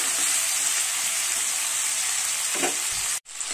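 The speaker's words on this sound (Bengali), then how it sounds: "এবার আমি এগুলোকে ভালো করে ভেজে নেব ঢাকা চাপা দিয়ে।" Vegetables for shukto, lightly dusted with turmeric, fry in a covered pan with a loud, dense, unbroken sizzle that cuts off abruptly just before the end.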